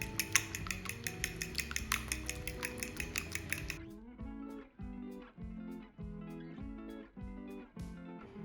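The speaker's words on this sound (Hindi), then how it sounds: "अब इसको फोक की मदद से अच्छे से फेंट लेंगे।" A fork beats an egg mixture seasoned with salt and black pepper in a bowl. Rapid, even clinks come first, then a slower run of repeated scraping strokes against the bowl, close and fairly quiet, with no talking.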